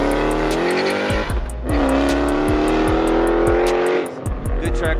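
A loud Mopar Jeep Trackhawk engine revving hard up close, with rising and falling whine through repeated accelerations, brief dips between pulls, and a rhythmic ticking or tapping layered on top.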